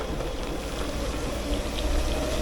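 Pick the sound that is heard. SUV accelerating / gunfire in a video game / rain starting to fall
rain starting to fall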